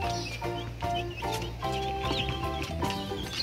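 Chicks eat, peeping and cheeping continuously in overlapping high calls, close and clear, with light clucking-like chatter and no speech.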